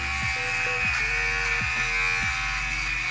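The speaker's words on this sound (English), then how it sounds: "So it will literally shave off any of those little pilly bits that are on there." An electric fabric shaver runs over a sweater to remove pills, giving a steady close buzzing hum with a few brief pulses and shifts in pitch as it moves across the knit.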